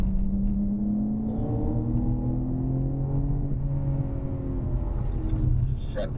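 A BMW M car accelerates on a race track, its engine note rising steadily and loud throughout, a continuous close-up roar with climbing harmonics and no gear-shift breaks.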